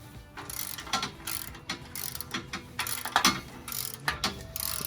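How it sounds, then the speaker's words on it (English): Torque wrench ratcheting as it tightens front bumper bolts on a Rusty's Xtreme Trail bumper, a steady run of rapid mechanical clicks in repeated bursts, close and fairly loud, with no talk. "you'll need to torque them all, like I said, to 70 foot-pounds."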